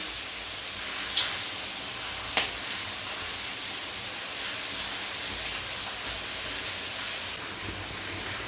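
Steady rain falls outdoors, a dense, even hiss with scattered louder drops striking a nearby surface, continuing without pause and without voices.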